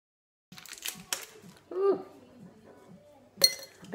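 Ice cubes dropped one at a time into a glass for iced coffee, several close, sharp clinks and rattles spread across a few seconds, with a loud final clink near the end.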